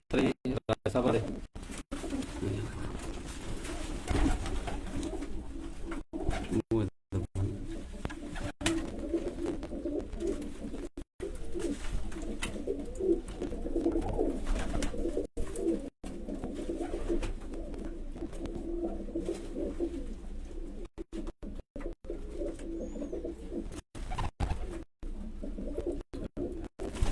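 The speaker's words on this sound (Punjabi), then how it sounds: "ਇਹ ਵੀ ਘਰ ਕਬੂਤਰ ਜੀ ਰਾਜਾ ਸਾਹਿਬ ਦੇ" Domestic flying pigeons kept at home coo in steady low murmurs throughout, close by, mixed with handling bumps and faint background noise.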